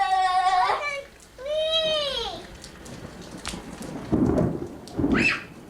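Rain pours outdoors with low rumbles of thunder, steady hiss broken by heavier surges, while a child and an adult talk over the opening seconds.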